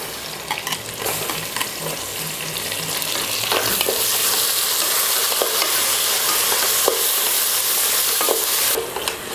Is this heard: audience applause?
no